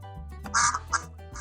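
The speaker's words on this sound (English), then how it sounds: "play sound quack" A few quick duck quacks, nasal and close, in a short burst.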